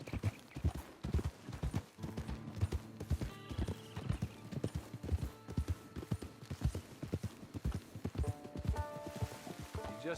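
A horse's hooves clip-clop in a steady, rapid rhythm in the video game Red Dead Redemption 2, fairly close and unbroken across the whole stretch, with a brief whinny and faint tonal background sounds.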